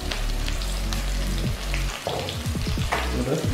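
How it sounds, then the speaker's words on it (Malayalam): Sliced onions fry in hot oil in a pan for a vegetarian dry fry, giving a steady, close sizzle with scattered crackles. "അപ്പൊ അതിലേക്ക് കുറച്ച് സവാള ആഡ് ചെയ്യാം"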